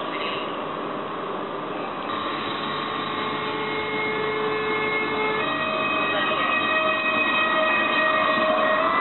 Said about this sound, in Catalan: Sortida del segon R7 del dia, que surt de Martorell